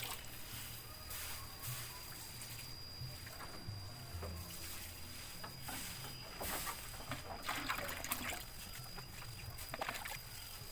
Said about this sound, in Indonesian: Habis ini kita seperti tadi kita siram lagi.